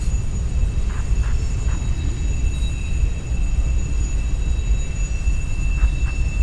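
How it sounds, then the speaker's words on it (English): A freight train rumbles past at Horseshoe Curve, a steady loud low roar with faint high squeals and tonal hums running through the whole stretch, close and continuous. "It's the sound of trains."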